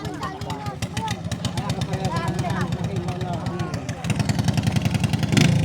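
Racing boat engine of the RST Bulacan team at a Bulacan boat race, a steady pulsing mid-pitched drone running continuously and swelling louder near the end, with a commentator talking over it throughout.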